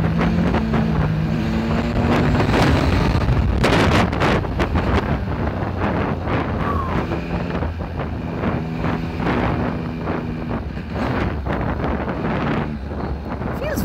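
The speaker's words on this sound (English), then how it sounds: "Let's just give it a bit of a throttle around here." A Benelli TNT 1130 motorcycle is ridden under throttle, its engine droning and rising through steady acceleration, heavily buffeted by wind noise from the moving ride.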